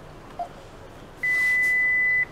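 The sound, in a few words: door station keypad beep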